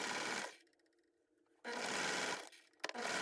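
A serger sewing knit fabric runs in two loud, rapid stitching bursts separated by a quiet pause of about a second, then ends with a short stutter and restart.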